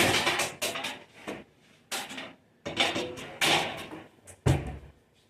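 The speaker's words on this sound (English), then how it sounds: "I'm going to go get a pan real fast" Kitchen clatter as a pan is fetched: several loud, close bangs and knocks of cupboard doors and metal cookware in irregular bursts, with quiet gaps between them.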